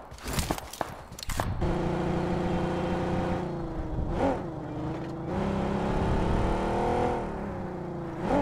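Vehicle engine in a mobile battle royale game, a steady loud drone that holds throughout with slight pitch shifts as the car slows and stops, following a few sharp clicks at the start.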